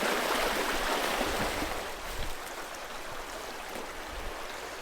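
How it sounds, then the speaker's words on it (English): Continuous rushing water from a nearby brook, a steady broadband hiss and gurgle with no voices. "the water flows over it kind of quickly, and it fills the air with the sound of rushing water"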